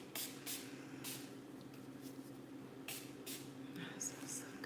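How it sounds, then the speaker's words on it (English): A cleansing spray bottle gives several short hissing bursts, spaced irregularly and fairly faint, with a person talking in between. "This is my cleansing spray."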